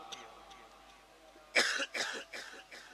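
A single sharp cough bursts out, followed by a few quieter rough coughs or throat sounds, close and fairly loud against a hushed background.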